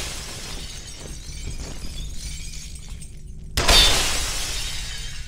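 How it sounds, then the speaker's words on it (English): Glass shattering as a projectile strikes it in the video game FEAR: one sudden loud crash of breaking glass that rings out and tails off over about a second, with a steady low game ambience before and after. "That is so neat how the glass breaks, though."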